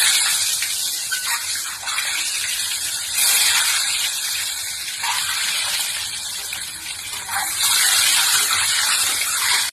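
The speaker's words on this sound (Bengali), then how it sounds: "এবারে আমি তেলের মধ্যে ডিমগুলোকে এক এক করে ছেড়ে দিচ্ছি।" Boiled eggs dropped into hot oil in a pan, producing a loud, continuous hissing sizzle that swells in bursts as each one goes in, near and with no speech over it.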